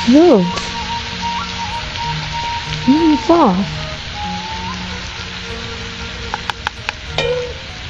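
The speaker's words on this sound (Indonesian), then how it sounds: "Kita mulai goreng sambalnya ya." Oil sizzles steadily as chili sambal fries, a continuous hiss with a few stirring clinks and short whistly tones over a low background hum.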